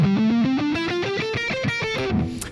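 Electric guitar licks played through a Soldano amp with high-gain distortion, compression and delay: fast, loud, sustained legato runs climbing in pitch, played solo with no talking.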